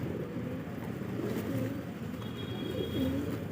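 Sirazi pigeons coo while feeding in a flock, soft low cooing calls rising over a steady murmur of background noise, moderately faint, with no talk.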